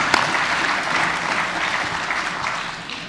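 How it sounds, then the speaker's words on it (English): A genealogy conference audience breaks into a warm round of applause for the organising society, a dense and even wash of clapping that stays strong and begins to ease at the close. "a big round of applause for New Zealand Society of Genealogists"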